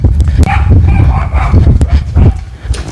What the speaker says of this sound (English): the rescue dogs are barking at him